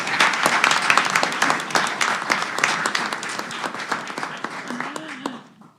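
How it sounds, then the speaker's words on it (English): Applause at a board of trustees meeting, a dense burst of clapping from a roomful of people that starts strong and gradually thins out, ending with a voice as the clapping fades. "Can we clap for that one?"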